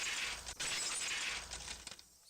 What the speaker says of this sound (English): The unpleasant piercing sound of shattering glass